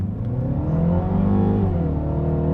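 A car engine revs hard at high rpm in sport mode, a loud, close, sustained harmonic drone that climbs and then eases back, with no talking.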